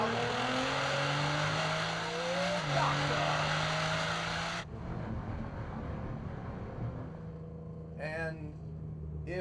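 A car in Gran Turismo 7 rolling on from third gear at 3,000 RPM, the engine climbing in pitch through a gear change before cutting off abruptly, then quieter road noise and a brief rising whine.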